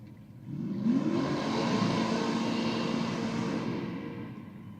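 A racing car engine roars up and holds a loud, sustained rev for several seconds before easing off slightly at a roll racing event, no talking.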